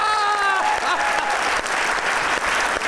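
Studio audience applause on a comedy talk show, dense and steady clapping throughout after a brief sustained tone fades at the start.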